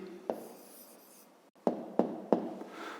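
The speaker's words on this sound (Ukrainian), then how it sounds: "А тепер записуємо відповідь. Пишемо тоді відповідь." Pen strokes scratch on paper as a math answer is written by hand, several short crisp taps and scrapes close up, with a quiet pause in between.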